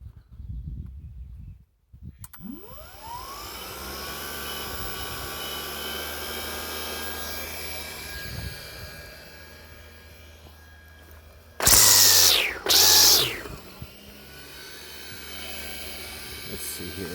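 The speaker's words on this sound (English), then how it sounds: "I got this weed whacker that I threw together. It's got this Black & Decker. It's got a universal brush motor in it as well." A homemade weed whacker driven by a Black & Decker universal brush motor spins up with a rising whine into a steady hum, then gives two loud, harsh bursts near the end.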